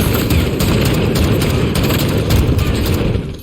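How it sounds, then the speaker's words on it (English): An auto shotgun in a video game fires shot after shot: heavy, booming blasts come in quick succession over a thick, roaring wash, very loud and close, then fade at the end. "The auto shotgun in this game is absolutely ferocious. I mean, the way you can just unload shot after shot."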